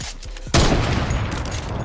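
A sudden burst of rapid gunfire erupts in Fortnite as a player holds down the trigger, a loud, continuous stream of shots that stays dense to the end after a quieter opening.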